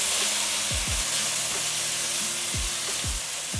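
Red chili, coriander and turmeric powders sizzle in hot oil in a pan while being stirred for aloo gobi, a steady close frying hiss with a few soft scraping strokes.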